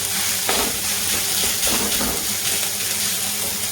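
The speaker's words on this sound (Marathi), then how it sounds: "वाटाणा शिमला मिरची टाकू, परतून घ्यायचं" Peas and capsicum sautéing in a pan for a chapati veg roll, a continuous bright sizzle with occasional stirring scrapes, close and fairly loud with no talking.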